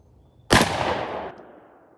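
A single close, sharp AR-15 rifle shot fired while sighting in, a loud crack followed by a brief decaying echo, with no voices.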